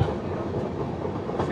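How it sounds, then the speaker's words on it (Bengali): A passenger train arriving and coming to a stop at Ibrahimabad station in Bangladesh, a close low rumble and rolling rattle of the carriages, with people talking over it. "এই যে ট্রেন এসে থামলো"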